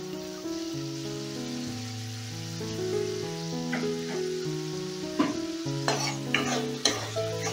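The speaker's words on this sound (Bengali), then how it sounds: "এবারে যে শুকনো লঙ্কার পেস্টটা করে রেখেছিলাম সেটা দিয়ে দিচ্ছি।" Dried red chili paste sizzles and fries in a pan for spicy chili chicken, with a steady crackle underneath and a few sharper scraping stir strokes near the end. Soft background music plays throughout, and no one speaks.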